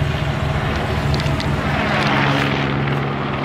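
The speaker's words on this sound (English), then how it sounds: "you got helicopters flying over your head" A loud, continuous helicopter rotor-and-engine drone overhead in Chicago fills the whole stretch, steady and close, with no other sounds standing out.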